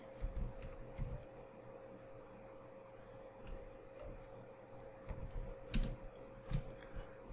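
Scattered keystrokes tap on a computer keyboard in short irregular bursts, soft and close, over a steady electrical hum with no voices.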